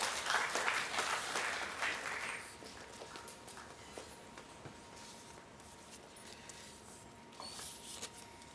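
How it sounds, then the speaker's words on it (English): An audience at a national conference on the Indian defence system and the National Cadet Corps applauds the chief guest, a faint, distant patter of clapping that fades out after a couple of seconds into quiet room noise. "Everybody, please give a round of applause for our today's chief guest."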